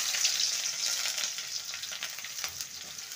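Chopped onion hits hot oil already tempered with black cumin, giving a bright, loud hiss that eases off a little as the sizzle settles, with a few soft crackles.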